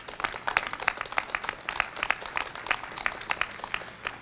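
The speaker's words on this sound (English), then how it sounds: "a round of applause" A small group applauds at a city press event on solar energy, scattered, fairly brisk claps of moderate loudness, sounding from a modest crowd rather than a large audience.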